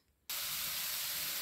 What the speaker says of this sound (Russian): вот начинают жариться, да, вот шипят, вот маслечко растаяло